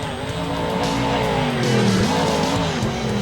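A monster truck engine at full throttle in Rigs of Rods, a loud continuous roaring drone with shifting pitch and rising whines, close and sustained throughout.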